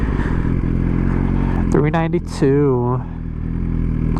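A Honda CBR motorcycle passes close by in traffic, its engine note rising then falling over a couple of seconds against a steady road rumble, with people talking.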